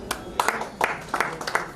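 An audience at a mushaira claps to welcome a poet, a few scattered, fairly close handclaps at an uneven rhythm rather than a full ovation.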